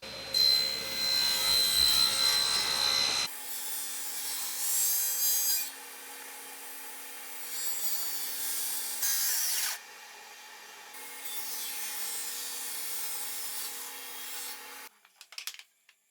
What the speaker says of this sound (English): I'm going to take an 1/8 inch out with the blade